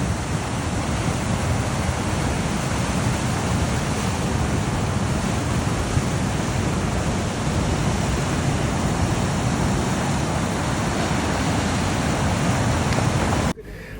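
Ocean surf rolls in at a surf spot, a continuous broad wash of breaking waves and wind noise, steady and loud for the whole stretch before cutting off abruptly near the end.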